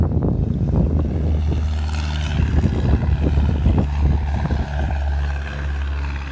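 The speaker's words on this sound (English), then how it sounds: "we should get the takeoff shortly here. This is not the plane we wanted to see, but it's still a plane" A Cessna 172 light aircraft takes off, its propeller engine a loud, rough, steady drone that swells and wavers, heard from nearby at an airfield with no talking.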